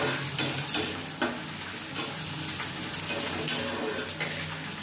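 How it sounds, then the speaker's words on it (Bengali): Grated ginger, grated garlic and green chili fry in a pan with already-fried onions while pokora batter is prepared, a steady close sizzle with the scrape and clack of a spoon stirring through it, no voices. "এখানে আদা গ্রেট করা, রসুন গ্রেট করা, কাঁচা লঙ্কা এটা ভেজে নেবো।"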